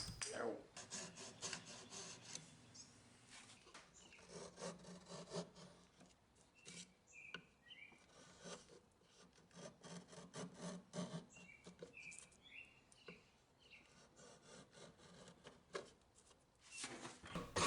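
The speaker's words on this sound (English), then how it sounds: "I'll clean it up with a file and some sandpaper" A file and sandpaper rasp back and forth over a wooden paddle handle carved from a log, producing quiet, uneven scraping strokes in irregular bursts with short pauses between.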